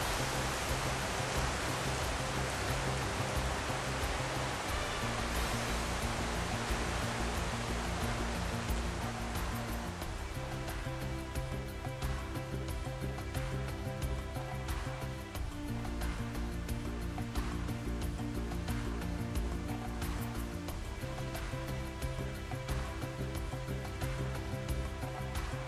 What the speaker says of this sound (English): It's raining outside, pouring here in Foster